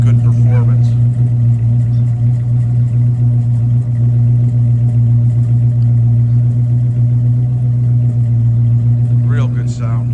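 A 1979 Chevrolet Camaro at a car show idles steadily with a deep, loud low rumble held throughout, a brief faint voice near the start and a sharp squeak near the end.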